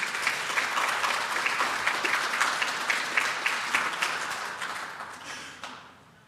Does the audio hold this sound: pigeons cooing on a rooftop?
no